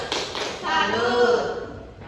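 A classroom group of students performs the 'tepuk salut' clap chant, several voices chanting together over a few light, rhythmic claps and taps, close and moderately loud.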